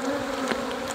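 Nurse honey bees taken from a hive hum in a close, steady, dense buzz with no pauses and no voices.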